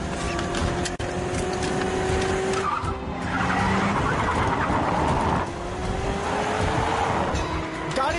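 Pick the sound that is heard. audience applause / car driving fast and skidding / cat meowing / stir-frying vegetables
car driving fast and skidding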